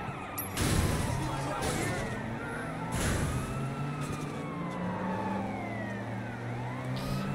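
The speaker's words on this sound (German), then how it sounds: "Dann plötzlich taucht hinter mir einfach so ein Polizeiauto auf." A police car siren in the video game Sleeping Dogs wails in long rising and falling sweeps, loud and close behind over a continuous engine and traffic rumble.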